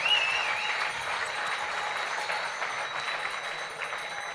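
Audience applause at an awards ceremony for winter sports athletes, a dense, steady patter of many hands clapping continuously throughout, moderately distant and even, with no talking over it.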